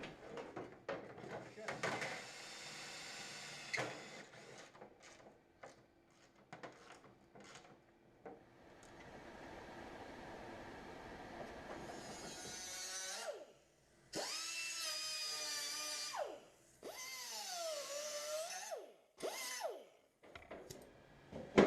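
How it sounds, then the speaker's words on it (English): Clattering and knocking, then several bursts of a power drill whirring, revving up and winding down in short, loud runs close by, drilling holes while fitting the front end of an Audi Sport Quattro replica. "I gotta drill a hole here and a hole here"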